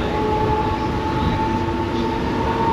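A Mumbai local train runs steadily, heard from inside the carriage as a loud, continuous rumble with a faint tonal whine and no distinct clatter.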